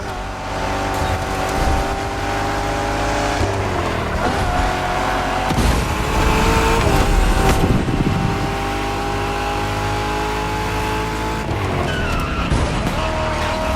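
A muscle car races in The Crew Motorfest, its loud engine droning and shifting pitch continuously with repeated tire squeals and skids throughout, close and steady with no talking.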